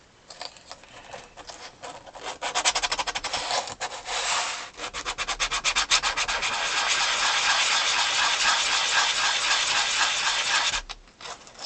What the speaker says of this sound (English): So let's get some sandpaper.